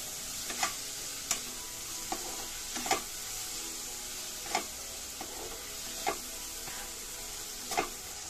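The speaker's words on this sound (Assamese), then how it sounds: "অলপমান হালধি পাউডাৰ দি গোটেইখিনি ভালদৰে লৰাই দিছোঁ" Grapes with salt and turmeric being stirred in a cooking pan, soft steady sizzling with a few light scraping taps of the spoon at irregular intervals, quiet and close.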